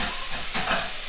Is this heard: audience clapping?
no